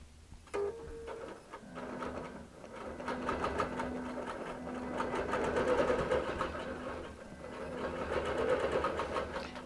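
A QBOT V3 quilting machine stitches a quilt with a steady, rhythmic mechanical whirring and ticking that swells slightly in loudness, close by and without talk.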